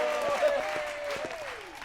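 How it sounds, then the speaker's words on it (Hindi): A studio audience claps to welcome a new pop performer on stage, a brief burst of steady, even applause while a sustained musical tone and a falling whoosh sound over it. "इनके लिए तालियां।"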